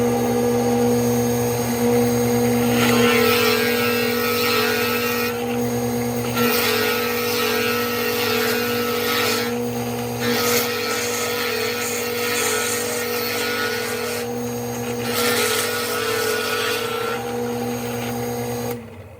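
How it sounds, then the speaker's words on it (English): A drill press bores holes in clamped wood with a 1 1/4 inch Forstner bit, a steady loud motor whine swelling into rougher cutting bursts several times across the stretch, with no talk. "I'm using a 1 1/4 inch Forstner bit to drill out these holes"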